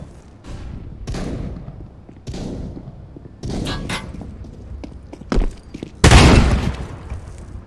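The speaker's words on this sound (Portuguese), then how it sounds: "flashbang!" A flashbang grenade bursts in a video game, a loud, sharp blast near the end after several bursts of gunfire and shuffling footsteps.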